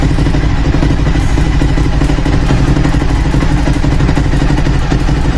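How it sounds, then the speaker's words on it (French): A rebuilt Suzuki SV1000S motorcycle engine idles steadily up close, a loud continuous V-twin rumble with faint mechanical clatter and no voices. "Je vais laisser tourner une petite minute avant de mettre un peu de gaz pour que l'huile ait le temps de remonter partout"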